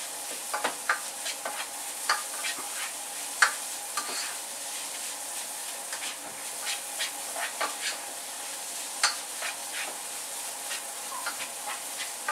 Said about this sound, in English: Then you fry it up.